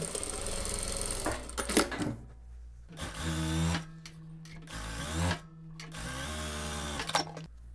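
A sewing machine stitches the side seams of a denim dress in several short runs of steady motor whir, with pauses and handling clicks between, close and clear.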